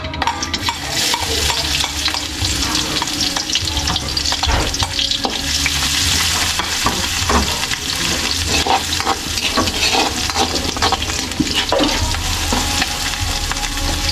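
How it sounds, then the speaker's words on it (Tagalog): Garlic sautéing in hot oil in a pan, a steady close crackling sizzle with stirring scrapes throughout, no voices. "Kaya magigis na tayo. Bawang."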